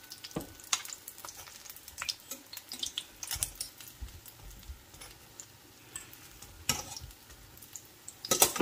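Vegetable spring rolls (lumpia) crackle and sizzle in hot oil, a steady busy frying hiss broken by sharp pops and spatters, close and fairly loud with no one talking.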